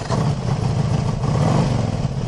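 A 2005 Harley-Davidson Ultra Classic Electra Glide with stage one fuel mapping and an upgraded exhaust revs steadily, its loud, deep engine rumble close by and continuous without speech.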